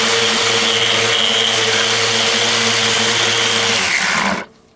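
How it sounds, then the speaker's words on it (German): An orbital sander with 80-grit paper whines loudly and steadily on a steel grill plate, then winds down and stops near the end. "Ich habe hier ein 80er und mit dem schleife ich jetzt die Platte nochmal komplett ab."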